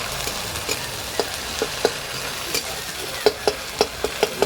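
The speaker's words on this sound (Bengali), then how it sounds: "মশলাটা ভাজা ভাজা হোক" Ground spices and ginger-garlic paste fry in a pan, a steady sizzle under repeated spoon scrapes and clinks as the mixture is stirred, with a quick run of strokes near the end.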